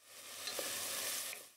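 Onion and garlic with salt sauté in melted butter in a pot, a steady close sizzle and crackle with a soft stir or two, alone without talk.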